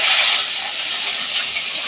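Small bata fish, rubbed with salt and turmeric, frying in hot oil with a loud, continuous hissing sizzle and no voices.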